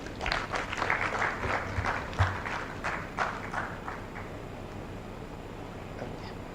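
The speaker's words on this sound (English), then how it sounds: "A round of applause, please." A conference audience claps in a burst of scattered applause that peaks early and fades to a quieter patter with room noise.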